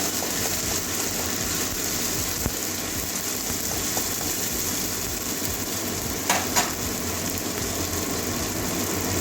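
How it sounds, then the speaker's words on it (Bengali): Garlic frying in a pan of oil with cumin, a steady dense sizzle and hiss throughout with a couple of brief scraping stirs near the end. "রসুনটাও ভেজে নেবো কাঁচা গন্ধ যাওয়া পর্যন্ত"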